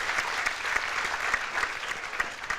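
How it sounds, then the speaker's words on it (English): Audience at a teen town hall clapping steadily for a couple of seconds, a dense patter of many hands with no voices over it. "Let's give her a round of applause for bringing that forward"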